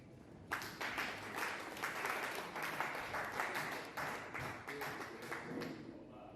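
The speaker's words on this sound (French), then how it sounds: "vous demander de vous applaudir d'abord" Audience applause at a commune presentation on health work, a fairly distant crowd clapping steadily with sharp individual claps standing out, sustained for several seconds before thinning at the end.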